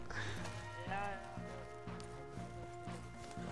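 A horse in the video game Red Dead Online approaches with clip-clop hoofbeats, faint behind steady talking and music tones.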